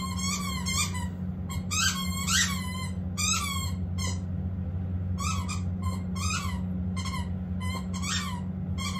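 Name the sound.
squeak toy squeaking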